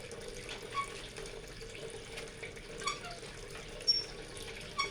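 Water runs steadily from a tap into containers, filled to store water for flushing during a day-long power outage, with a continuous splashing hiss and a few faint clinks, and no talk.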